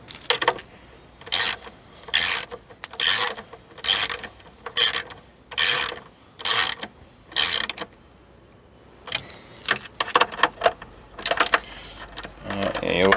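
Wilkinson roto-style tuners are tightened on an acoustic guitar headstock in a series of regular, crisp ratcheting turns, followed by scattered lighter clicks and rubbing, with a voice talking in the background.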